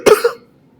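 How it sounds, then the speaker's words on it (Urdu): A single short cough, close and loud, with a brief second burst right after, then silence. "معذرت کے ساتھ تھوڑی کھانسی اور زکام ہو گیا تھا۔"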